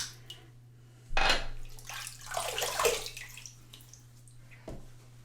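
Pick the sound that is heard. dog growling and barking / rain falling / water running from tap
water running from tap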